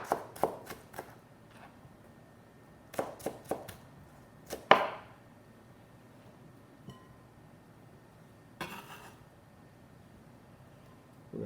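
Onion chopped finely across the grain with a knife on a board, irregular clusters of sharp close chops separated by quiet pauses, with a last few strokes near the end.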